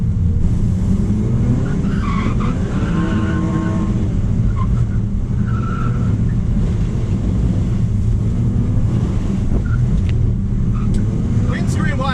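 Drift cars sliding in tandem alongside all-wheel-drive slides, with a continuous loud engine roar and sustained tire squeal while people talk over the noise.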